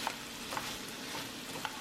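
Teriyaki chicken with red pepper flakes sizzles steadily in a pan, with soft scraping stirs every half second or so and no talking.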